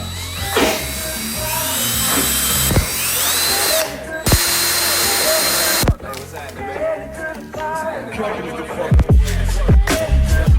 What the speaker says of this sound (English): We're going to be drilling the hole on the underside right here.